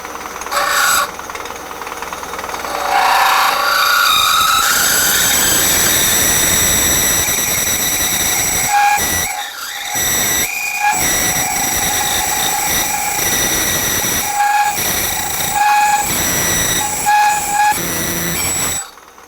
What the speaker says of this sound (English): It's scraping the side of the boring bar.